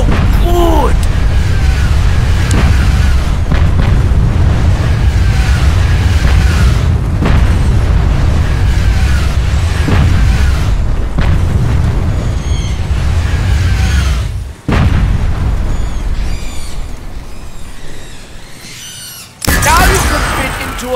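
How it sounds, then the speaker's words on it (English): Heavy booms and explosions crash through a zombie video game, with loud, dense rumbling that runs almost continuously, sharp bursts standing out and brief drops near the end. Talk comes through underneath. "Oh, that boom sounds so good!"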